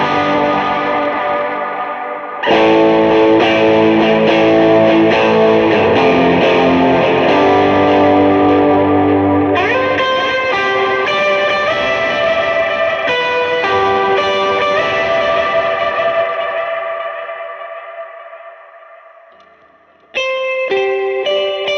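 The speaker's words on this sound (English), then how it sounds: "I'm gonna do that first with the King of Tone" Electric guitar played through a King of Tone overdrive with a little gain and delay repeats, loud sustained distorted chords ringing out and decaying into echoes before a final strum.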